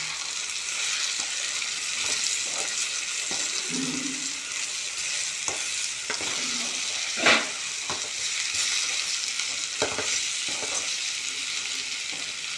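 Steady sizzling and crackling of spices, onion and tomato sautéing in hot oil, with occasional scraping stirs and a brief clatter partway through, close and continuous.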